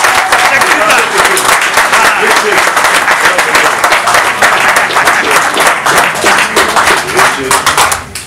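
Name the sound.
audience applause at book launch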